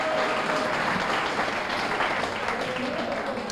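Steady applause from an audience at the Peekskill Museum's annual gala fills the whole moment, a dense, even patter of many hands clapping at moderate distance.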